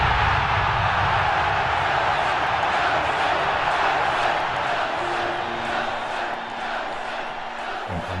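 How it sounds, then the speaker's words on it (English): Stadium crowd roaring and chanting at a rugby match as Nelson Mandela steps onto the field in South Africa, a dense, continuous wall of loud voices that stays steady throughout with no single voice standing out. "The crowd just went wild."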